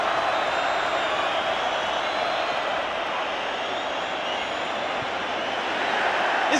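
A football crowd at Sheffield United v Sunderland roars in a steady, broad wash of cheering and noise that stays loud and unbroken throughout, heard from a distance across the stadium.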